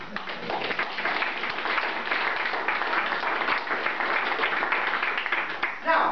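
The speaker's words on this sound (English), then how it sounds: "I want to suggest that you give yourselves a big round of applause" Audience at a talk on chemtrails and geoengineering breaks into a big round of applause, dense steady clapping from a crowd filling the room that swells near the end.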